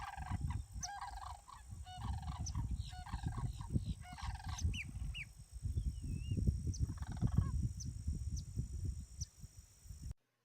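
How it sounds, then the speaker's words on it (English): Sandhill cranes at Myakka Lake near Sarasota, Florida, calling in repeated rolling, trumpeting bursts over a steady outdoor background, moderately distant, with no talking. "One of the more common birds there is the sandhill crane."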